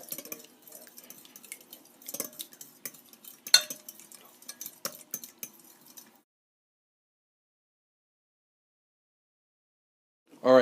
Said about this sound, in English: So now we're going to beat our egg.